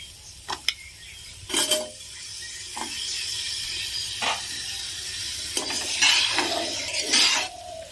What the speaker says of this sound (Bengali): এবার ভালো করে সবজি দিয়ে কষে নেব।